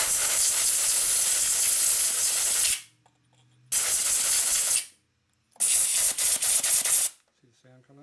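Loud bursts of compressed air from a nozzle blast sand out of a Harley Shovelhead motor during a rebuild, three long hissing blasts separated by short pauses with faint background noise between.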